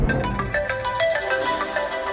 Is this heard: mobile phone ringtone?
yes